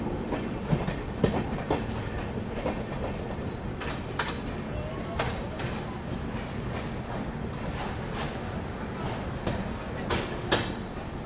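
Rajdhani Express passenger train running at speed on the rails, with steady rumble and rhythmic clickety-clack of wheels over rail joints, recorded from inside the moving coach with occasional louder clanks.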